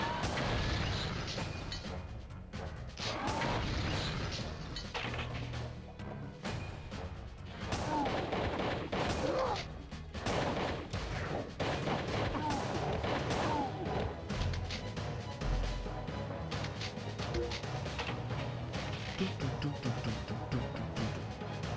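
Pistol gunfire from the video game Realms of the Haunting, a dense run of sharp shots and booms mixed with game effects and a low music bed, loud throughout.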